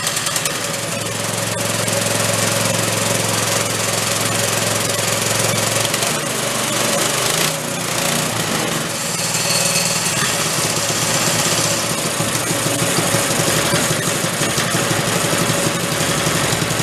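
A small engine fitted with a stock muffler in a 1960s Corvair Monza toy car runs loud and close, a steady buzzing drone with a brief dip partway through before it picks back up.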